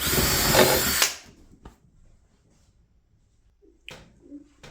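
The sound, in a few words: drilling countersink holes with a countersink bit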